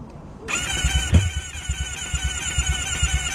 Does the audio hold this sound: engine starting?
yes